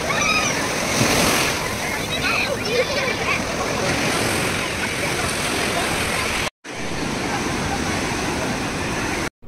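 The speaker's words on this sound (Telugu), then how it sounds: "చెన్నైలో కంటే ఇక్కడ అలలు చాలా బాగా వస్తున్నాయి" Sea waves roll onto the shore at Mahabalipuram beach, a loud continuous roar of surf and rushing water. Faint voices are mixed in, and the sound drops out for a moment near the end.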